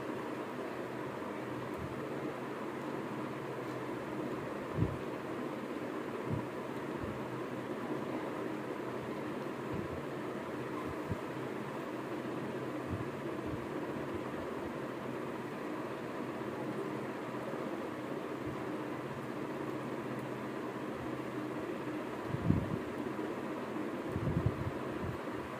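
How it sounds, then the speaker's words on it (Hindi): An electric fan runs in a room as a steady broadband whoosh, constant and moderately loud throughout, with a few faint knocks and handling bumps and no talking. "बात कम करूंगी ना तो पंखे का आवाज इतना जोर जोर से आएगा"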